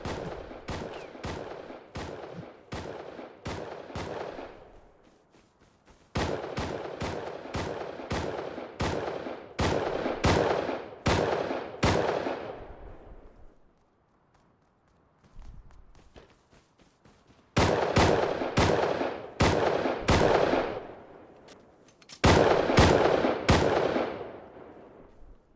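Rapid automatic gunfire in the survival video game Rust, loud and close, in dense bursts of sharp shots separated by brief lulls, the last two volleys after a quiet gap.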